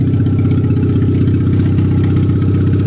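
A Geo car engine runs steadily up close, a loud, even low rumble with a fast regular pulse, no voices over it.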